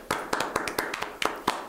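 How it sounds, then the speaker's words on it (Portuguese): Bare hands clap about ten times in a loose, uneven rhythm, each clap sharp and close with short quiet gaps between. "Bate palma."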